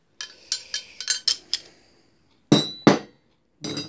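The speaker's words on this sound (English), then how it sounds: "Spanner in that." Loose spanners, a bit of angle iron and horseshoe bar rattle against the jaws of blacksmith's tongs: a quick run of bright metallic clinks, then two sharp clanks and a final jangle, close and alone.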